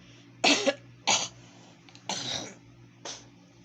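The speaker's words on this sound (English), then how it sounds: "you can hear me coughing" Four harsh coughs in a row, close to the mic, separated by short pauses over a low background hum.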